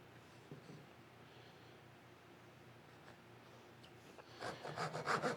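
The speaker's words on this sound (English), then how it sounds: "We'll quickly cross-cut the sides. Saw the cheeks." A hand saw begins cross-cutting the cheeks of a wooden tenon, with quiet rasping strokes building into a louder, rhythmic back-and-forth near the end after a faint, mostly quiet start.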